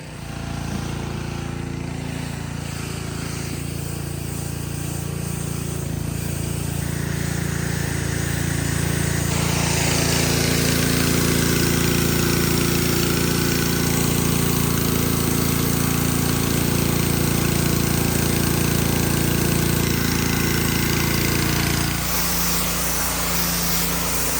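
A Michelin petrol pressure washer rated at 210 bar runs steadily nearby, its engine a constant loud drone that swells around the midpoint and dips in pitch near the end.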